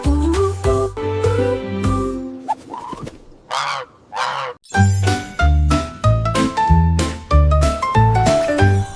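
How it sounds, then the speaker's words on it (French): Bright musical notes and jingles with honking, goose-like sounds in the middle, playful and loud like a cartoon soundtrack. "Une oie volant dans un ciel clair."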